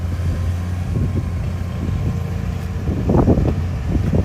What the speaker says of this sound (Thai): มาฟังเสียงเครื่องยนต์กระหึ่มกระหึ่มของเขา